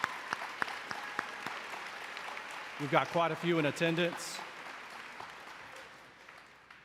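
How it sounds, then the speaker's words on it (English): Scattered applause at a middle school promotion ceremony for the staff, fairly faint clapping that continues while someone speaks into a microphone partway through. "Let's give a round of applause for them as well."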